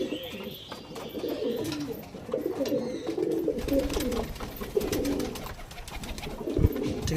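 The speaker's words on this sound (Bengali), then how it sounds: "অনেক পায়রা ঘরের পায়রা ছেড়ে দিয়েছি" House pigeons from a home loft coo continuously at close range, several birds overlapping in a steady, throaty burble with occasional faint chirps.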